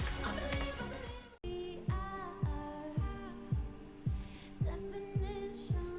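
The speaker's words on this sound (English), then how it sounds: "I love the heartbeat sound." A deep thumping heartbeat pulses steadily about once a second beneath music with sustained tones, the beat clear and close, in Lithuania's Eurovision 2020 song.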